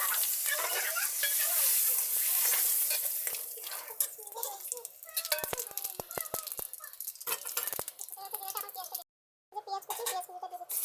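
Bay leaf and cumin seeds hit hot oil in a wok, giving a burst of bright sizzling that settles into crackling and spoon scrapes with intermittent stirring clatter; a voice speaks briefly over the cooking.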